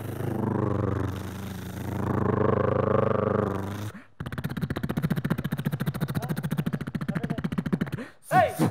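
A comedian on a Tamil comedy stage show imitates a helicopter with his voice: first a sustained droning hum, then a brief pause, then a fast rhythmic chopping pulse that runs for several seconds.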